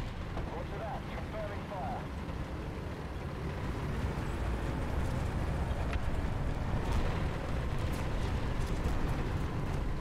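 Rumbling artillery blasts and low booming roars from War Thunder tank combat, a dense, continuous low-end wash that builds slightly louder in the second half, with no clear separate hits.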